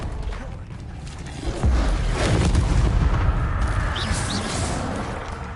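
A fire spell cast in Hogwarts Legacy bursts out as a loud, roaring whoosh with rumbling booms, swelling midway and holding steady to the end.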